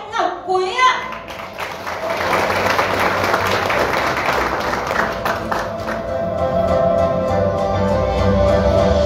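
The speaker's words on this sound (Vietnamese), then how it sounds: "chúng ta không quên nổ một tràng pháo tay thật lớn để chúng ta cùng chào đón sự trở lại sân" An audience breaks into applause to welcome a speaker back to the stage at a Vietnamese corporate event, with sustained, dense clapping and crowd noise running under a host's amplified voice.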